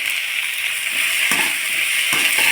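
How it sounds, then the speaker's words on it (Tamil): Tomatoes sauté in a hot pan for a village-style chutney, a steady close sizzle and hiss with a couple of brief stirring scrapes, no talking. "இதையும் நல்லா வதக்கி விடுங்க"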